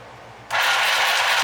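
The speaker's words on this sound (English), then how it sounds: "it's time to do some data runs of our mini sewing machine" Mini sewing machine stitching through two layers of fabric: after a half-second of quiet, a steady, loud whirring buzz of the needle mechanism runs continuously to the end.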